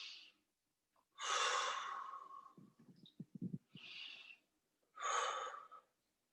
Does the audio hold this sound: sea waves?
no